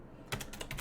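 Typing C# code on a computer keyboard, a short run of four or five quick, close, soft key clicks.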